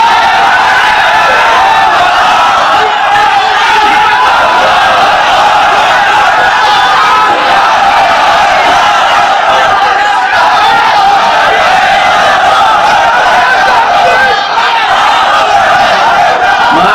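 A large religious gathering shouts the takbir call in unison, a dense and very loud sustained roar of many voices that continues without a break.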